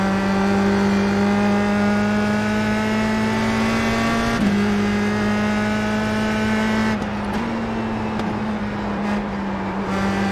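Formula race car engine in the iRacing sim at an oval track, a steady loud high-pitched drone holding near-constant revs, with a brief dip midway and slight roughening near the end as grip fades.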